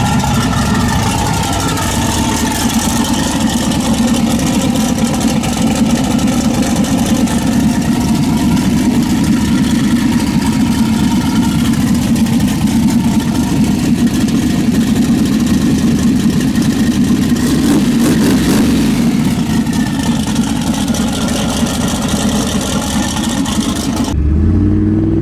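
A car engine fed by a blow-through carburetor under boost runs steadily for about twenty-five seconds, a loud, close, continuous drone with slight swells in pitch, ending abruptly.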